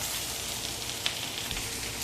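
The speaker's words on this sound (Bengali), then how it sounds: "আর লাস্টে মাছ ভাজা হচ্ছে" Fish fries in hot oil with onion and chili, giving a continuous, soft sizzle with a few faint pops and no voices.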